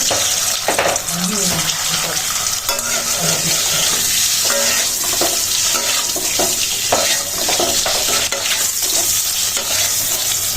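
Garlic cloves fry in oil in a pan with a steady, close sizzle, mixed with stirring scrapes and brief splashes of water in the background.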